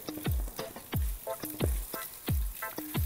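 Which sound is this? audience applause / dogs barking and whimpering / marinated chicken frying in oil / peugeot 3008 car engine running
marinated chicken frying in oil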